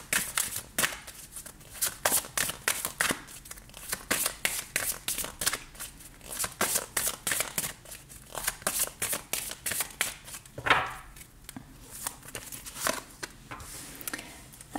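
Tarot cards are shuffled and handled up close for a reading. Rapid riffling bursts and soft slaps come in quick, irregular clusters, with a few louder snaps, and there is no speech.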